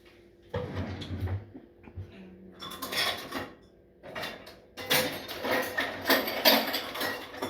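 Pizza dough ingredients are whisked together in a bowl at home, heard as close, uneven bursts of rapid scraping and clattering against the bowl, separated by brief pauses.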